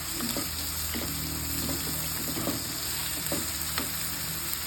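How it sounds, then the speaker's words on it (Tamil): Onions and tomatoes sauté in a pan for chicken gravy, with a constant close sizzle and a series of soft stirring clicks and scrapes at an uneven pace. "ஒரு மூணு மீடியம் சைஸ் தக்காளி வச்சுருக்கேன் அதை அதில் சேர்த்துக்கிறோம் நல்லா வதக்கிக்கலாம்"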